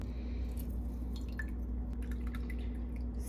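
Fresh lime juice squeezed by hand, small wet drips and squishy squeezes repeating softly over a constant low hum, close and quiet, without speech.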